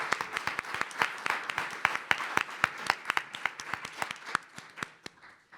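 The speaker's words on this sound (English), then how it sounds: "So let's give them a round of applause." A small audience applauds at a climate-action alumni panel event, a sparse round of distinct, individual hand claps that thins out toward the end.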